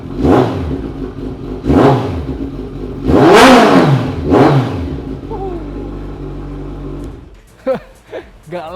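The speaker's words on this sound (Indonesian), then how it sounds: "Kawasaki ZX14R ini pakai mesin 1000 cc 4 silinder inline. Suaranya segalak apa?" A Kawasaki ZX14R motorcycle with an inline four-cylinder engine revs hard in a few sharp bursts, rising and falling between blips, then settles to idle while voices talk over the end.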